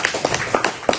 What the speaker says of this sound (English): Let's give John a big round of applause for